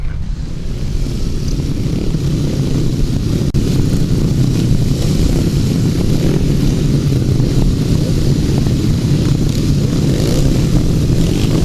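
500cc solo grasstrack racing motorcycles drone loudly and continuously at a grasstrack meeting in Tallington, their engine noise a dense, sustained roar with no talk over it.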